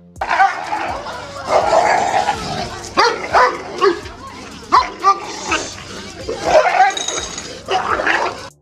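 A dog barks and yelps in bursts while fighting off cats, with loud, close, irregular barks, snarls and whimpers over a busy scuffle, and voices mixed in.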